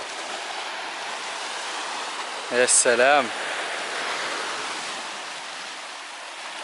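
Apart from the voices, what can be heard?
sea waves breaking on the shore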